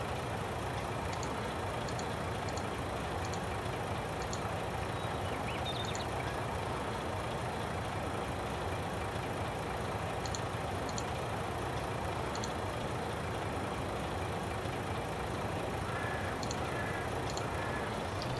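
Vehicle engine idling in Farming Simulator 22, a steady low droning rumble held evenly throughout at moderate-to-faint level, with faint clicks above it.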